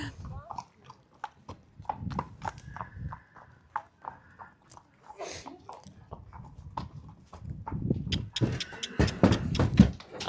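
A pony's hooves clip-clop in a scattered rhythm as it walks, close and fairly quiet, while people talk over it in French.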